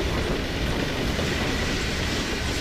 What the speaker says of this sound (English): We've got a train.